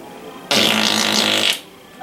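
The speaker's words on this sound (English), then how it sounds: "big belly burp farts" One loud, close, sustained belly fart lasting about a second, buzzy and even before cutting off abruptly, with a faint sound just after.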